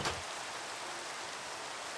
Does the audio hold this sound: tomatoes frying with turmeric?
no